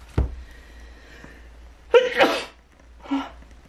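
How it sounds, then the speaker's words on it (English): A muffled thump, then a close, sudden sneeze, followed by a smaller second burst a moment later. "Got a sneeze coming."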